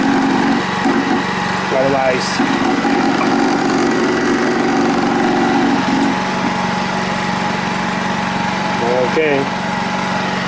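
A Honda EU2200i inverter generator fitted with an extended exhaust muffler runs at a steady, buzzing drone, close and constant, with a person speaking briefly over it.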